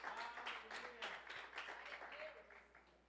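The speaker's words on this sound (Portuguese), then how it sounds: "dando a rica salva de palmas para o Rei Jesus" A church congregation applauds during a worship service, steady clapping that is faint and distant, tapering off slightly toward the end.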